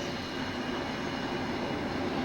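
A subway train runs along its tracks, giving a steady, close, broadband rumble and rattle that holds at an even level throughout without any pause.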